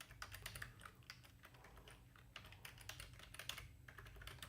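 Quick, faint clicking of computer keyboard keys typed in short runs with brief pauses, close but quiet, no voices.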